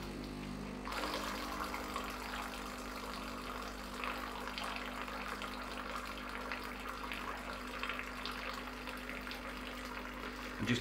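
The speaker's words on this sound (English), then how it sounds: "put the cup under the steam wand and then turn this to the hot water position" Hot water running from the steam wand of a Gaggia Brera espresso machine into a cup, a steady quiet hiss and trickle with a faint pump hum, starting after a brief pause and continuing alone.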